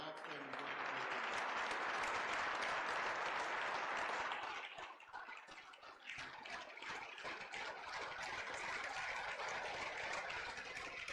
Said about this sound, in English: So if you would give them a round of applause for the outstanding work that they do